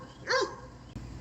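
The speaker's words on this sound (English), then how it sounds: "You may hear some barking, but that's okay." A single sharp bark from a dog at a home garden, loud and close, followed by a quieter background of outdoor noise.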